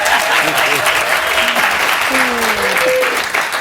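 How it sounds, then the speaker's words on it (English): Studio guests break into loud, sustained clapping on a news talk show, steady applause with voices talking over it. "I don't know why Gene started clapping."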